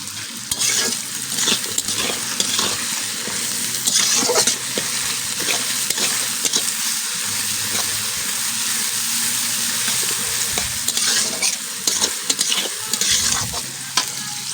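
Onions frying in oil in a wok sizzle loudly and continuously while a utensil stirs and scrapes them with irregular clinks, with no talking.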